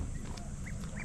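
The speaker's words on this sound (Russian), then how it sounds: "А тут утки." Ducks at a campground in Japan give short quacks over a constant outdoor hum, a couple of calls spaced apart at moderate distance.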